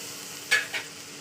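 Water saved from rinsing a stone grinding slab is poured into meat frying in a pan, giving two quick bursts of sizzle and splash over a low background hiss.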